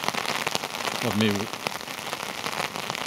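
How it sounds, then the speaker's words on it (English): Heavy torrential rain pours onto a city street in Norwich, Connecticut, a steady dense hiss that runs the whole time, with a brief voice speaking over it near the middle. "basically because of the torrential rain that's coming down right now"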